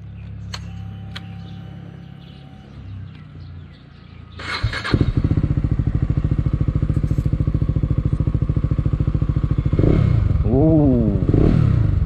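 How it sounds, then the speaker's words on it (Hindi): A KTM Duke 250 motorcycle, running on an octane booster, starts up after a quiet stretch, then idles and revs loudly with a steady throbbing beat and two rising throttle blips near the end, recorded close up. "अब एक बार बाइक को भगा के एक बार देखते हैं कि कैसा रेस्पॉन्स आता है।"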